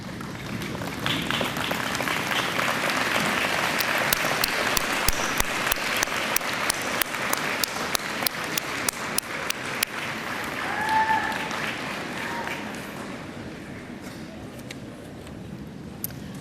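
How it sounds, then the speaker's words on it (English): Graduates at a college commencement ceremony applauding their families, a steady dense patter of clapping from a large indoor crowd that swells and then gradually thins, with a few voices talking underneath. "Graduates, please stand and turn around and applaud your family, friends, and others that have supported you on this journey."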